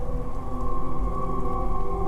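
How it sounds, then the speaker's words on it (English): Heavy rain pours down in a steady, unbroken wash of noise, loud and close, with a faint low hum underneath and no voices. "It rained all day. It never let up."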